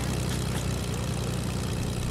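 Steady, loud propeller-plane engine drone from an airplane in the Fortnite battle royale game, a continuous low hum running unbroken and alone with no talk.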